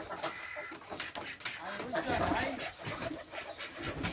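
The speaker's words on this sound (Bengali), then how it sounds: "হাঁস মুরগি কৈতর মোরগ এক জায়গায় সবকিছু।" Chickens, roosters and other poultry in a shared farm enclosure in Saudi Arabia cluck and call faintly and intermittently, mixed with rustling background noise and some indistinct voices.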